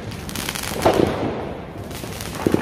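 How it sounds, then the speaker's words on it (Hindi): Fireworks and firecrackers crackle and pop at a celebration in Barcelona, with scattered sharp bursts over a constant background roar of a busy outdoor crowd. "पटाखे पटाखे पटाखे, हर तरफ पटाखे।"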